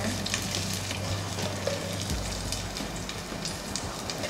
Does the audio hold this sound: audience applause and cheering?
no